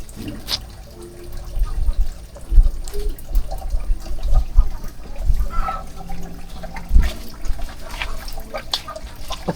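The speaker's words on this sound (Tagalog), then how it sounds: "At saka may tubig na mga katuba, ayun o. Ang hina ng tubig." Weak, thin stream of running water trickling steadily at a house under construction, low and fairly close, with clatter and brief bumps over it.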